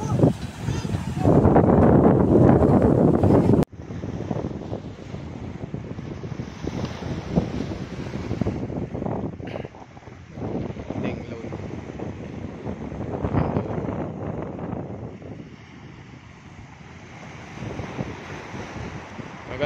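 Strong wind buffets the microphone over the wash of waves on a small-pebble beach, with a loud gusty burst at the start.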